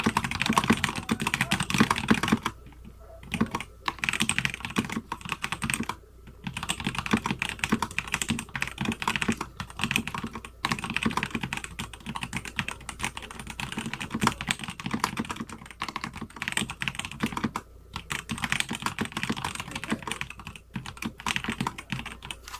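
Steady, rapid clacking of keys on a DURGOD mechanical keyboard, close up, with a few brief pauses between bursts of typing.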